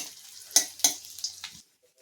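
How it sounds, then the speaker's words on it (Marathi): Edible gum (dink) frying in hot ghee, crackling in three or four sharp sizzling bursts as pieces puff up, then fading to near silence. "थोडा थोडा करून तळूयात कारण की डिंक फुलतो."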